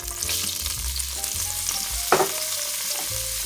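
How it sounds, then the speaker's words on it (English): Onion sautéing in a pot over medium-low heat, a steady close sizzle with repeated stirring scrapes and one sharper clatter partway through, no voices. "I'm going to let that saute for 5 to 7 minutes."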